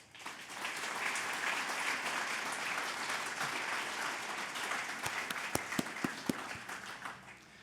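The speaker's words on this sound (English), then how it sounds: "Perhaps just taking the cue from Calvin, we can recognize all the finalists now by giving them a round of applause." A round of applause from the audience at an awards gala honouring finalists, sustained even clapping that fades in and holds, with a few sharper individual claps near the end.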